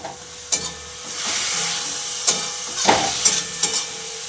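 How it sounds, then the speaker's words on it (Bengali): Radish greens and beans frying in a pan, a continuous close sizzle and hiss punctuated by several sharp clanks of a spatula stirring against the metal. "আমি এখন মূলো শাক ভাজা করছি এখানে, মূলো শাক আর সিম"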